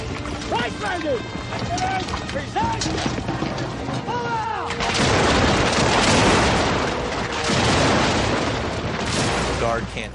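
Napoleonic battle din of cannon and musket fire, booming blasts and crackling volleys, dense and loud, mixed with shouting and a sustained roar that swells in the second half.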